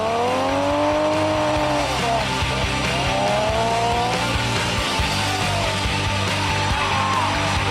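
Rally cars drifting at the San Marino Rally Legend, with loud engines revving and rising and falling in pitch as tires squeal through the slides. Close and continuous, with no talking.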